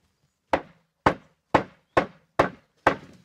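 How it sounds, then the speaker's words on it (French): A hammer gripped firmly taps on a flower petal to print its colour onto fabric or paper, six evenly spaced, sharp, close knocks about half a second apart, each dying away quickly with no talk. "on prend son marteau d'une main ferme et on tape"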